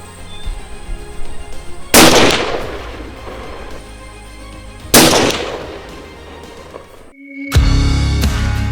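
Rifle shots at 100 yards during hunting practice in New Zealand: three loud, close blasts a few seconds apart, each followed by a rolling echo that slowly fades, with no voices between them.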